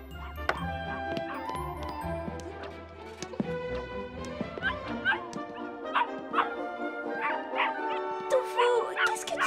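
A dog yips, whimpers and barks repeatedly at close range in an excited, uneven rhythm, mixed with other household sounds.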